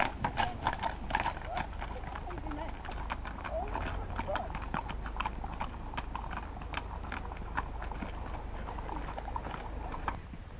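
Horse and pony hooves clip-clop on the ground at a fox hunt meet in a pub car park at Ballyneety, Limerick, a steady scatter of close and distant steps under constant crowd murmur and talk.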